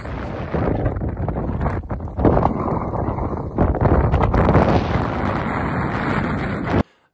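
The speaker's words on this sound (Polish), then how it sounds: "to jest bardzo silnego wiatru" Very strong wind buffets the microphone in a loud, continuous roar with gusty surges, recorded outdoors in bad weather in Iceland on the way to a volcano, then cuts off abruptly near the end.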